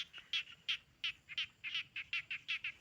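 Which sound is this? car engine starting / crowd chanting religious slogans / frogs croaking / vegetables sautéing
frogs croaking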